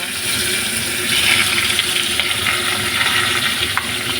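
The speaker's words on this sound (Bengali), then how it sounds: "এবার এই তেলের মধ্যেই আমি সিদ্ধ করে রাখা এঁচড়গুলোকে দিয়ে দেব" Boiled raw jackfruit going into hot oil for a Bengali curry, a loud steady sizzle and bubbling hiss that holds evenly throughout, close up.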